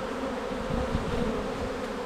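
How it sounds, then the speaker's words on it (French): Honey bees fanning with raised abdomens at the entrance of a hive holding a recovered swarm, giving the recall signal, make a dense, steady buzzing drone up close with no break. "la réaction des abeilles, c'est l'arrière-train en l'air, le battement de rappel"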